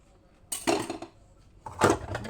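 Plates and cutlery clatter and clink in two short bursts as they are washed, close by, with quiet pauses in between and no talking.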